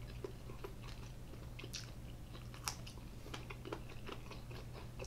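Close, quiet crunching bites and chewing of crisp food, irregular snaps over a low steady hum.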